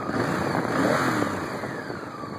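A Honda motorcycle with 40,000 miles on it is revved, its engine sound rising and holding as it is blipped, close and loud with no talking.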